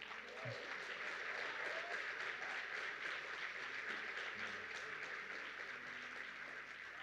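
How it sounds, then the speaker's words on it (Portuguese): Sustained applause from a church congregation during a sermon, steady dense clapping throughout with a few faint voices and cheers mixed in. "Mais forte um pouquinho esse aplauso para Jesus."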